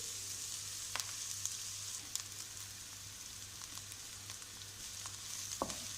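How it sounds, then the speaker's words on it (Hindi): Onions frying in a pan with garlic and ginger, a steady soft sizzle with a low hum underneath and a few light clicks of a utensil, no voices. "प्याज को भी हम अच्छे से हल्का सा फ्राई करेंगे।"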